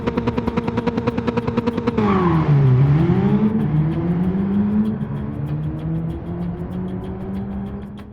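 An AMG engine in a small car rated at 381 horsepower idles in a rapid, lumpy pulse, then the revs dip and the engine pulls hard. A strong, sustained growl rises steadily and stays loud and close to the end.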